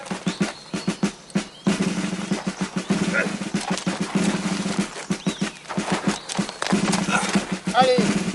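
A horse's hooves beat in a quick rhythmic clip-clop during a riding lesson, close and steady, while an instructor talks over the hoofbeats.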